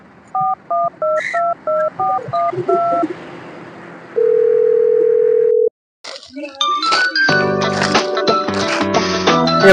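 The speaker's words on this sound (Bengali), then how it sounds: "এবার দয়াকে ফোনটা লাগাই তো দেখি।" A telephone call is placed: a quick run of keypad dialing beeps, then a steady dial tone, followed by a loud ringback with tonal, music-like pulses.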